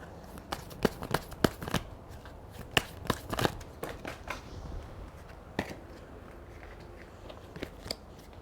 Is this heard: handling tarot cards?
yes